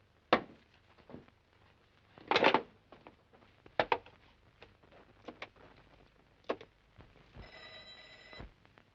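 An old telephone bell rings in a short burst near the end, following scattered clicks, knocks and handling noises in a quiet room.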